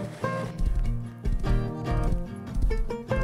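Horse hooves clip-clop in the video game Rust Console Edition, a run of fairly loud, close, uneven thuds over a steady tonal background, with no speech.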